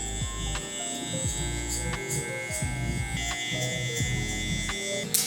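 Electric hair clippers with a 1 guard and the lever open buzz steadily and close-up through a haircut, with small changes in tone as the blades move through hair.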